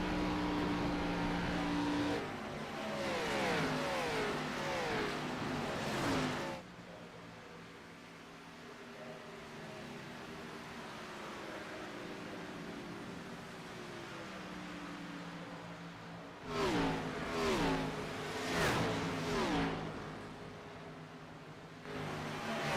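Race cars lapping Atlanta Motor Speedway, engines rising and falling as they pass, with loud close bursts of revving near the start and again toward the end and a quieter drone between.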